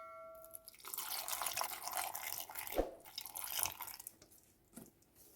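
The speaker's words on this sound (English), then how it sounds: "And finally I'll add some water." Water pours in a continuous splashing stream into a blender already holding banana, oats, raspberries and strawberries, soft and fairly close, lasting a few seconds and tapering off into a few faint drips.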